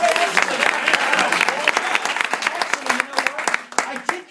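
Audience at a magic show bursts into dense, close applause that thins into scattered claps near the end, with voices mixed in.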